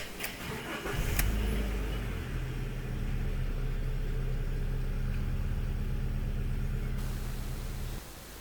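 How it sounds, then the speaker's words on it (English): Alfa Romeo GT with a 1.8 TS or 2.0 JTS engine cranks briefly, fires up and settles into a steady, even idle, heard close for several seconds before it cuts off. "Start your car and let it run for 10-15 seconds"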